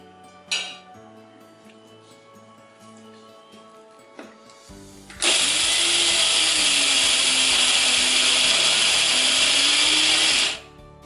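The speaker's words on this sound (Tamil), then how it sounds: "கருவேப்பிலை, மிளகாய், சீரகத்தையும் போட்டு அரைச்சிக்கிறேன்." A kitchen mixer grinder whirs loudly for about five seconds as it grinds curry leaves, chili, cumin and coconut for rice vadai, preceded by a few clinks and thuds of the jar being set in place.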